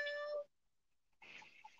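A cat meow, likely voiced by a person imitating it during a Kapampangan-language children's story lesson: a short tonal cry at the start, a pause, then a second softer, rougher mew.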